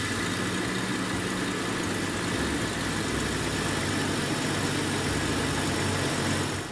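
A 1998 Jeep Cherokee XJ Sport engine idles with valve chatter, giving a steady, close, even rumble and mechanical clatter that holds without a break, with no talking.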